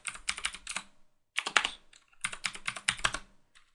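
Quick bursts of typing on a computer keyboard while connecting to a Cisco router, crisp close clicks in three separate runs of keystrokes with short pauses between them.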